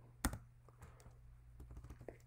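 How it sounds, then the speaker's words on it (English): Keys clatter on a computer keyboard, starting with one sharp, loud press and followed by a run of lighter, irregular taps, close and quiet over a low hum, with no talk. "I'm going to select all of this text by clicking Command A, and I'm just going to hit the space bar to delete it"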